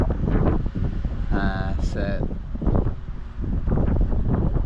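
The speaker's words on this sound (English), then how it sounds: "really windy" Heavy wind buffeting the microphone with a steady roaring rumble while cycling in China, a person speaking briefly underneath.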